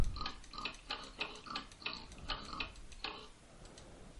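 Tesla coil driven by a script to play an oink sound, giving a series of rapid, rhythmic buzzing ticks that pulse about three times per second before fading, heard faintly without talk.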